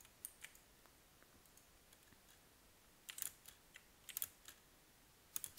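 A computer keyboard is typed on quietly during a Minecraft game, with sparse single clicks followed by quick bursts of keystrokes and no talking.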